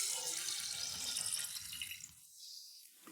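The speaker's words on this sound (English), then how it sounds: "We just pour in clean drinking water." Clean drinking water pours from a tap into a jar of beets for kvass, a steady close splashing hiss that thins out and fades toward the end.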